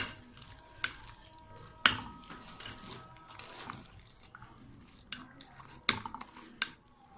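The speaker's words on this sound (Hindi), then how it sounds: "अब हम इन सब चीज़ों को अच्छी तरह से मिक्स करेंगे।" Kofta mince with egg, lemon juice and spices is mixed by hand in a bowl, giving soft squelching and stirring noises with a few sharp clinks against the bowl, close and quiet.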